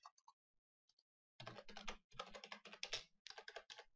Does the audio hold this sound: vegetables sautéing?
no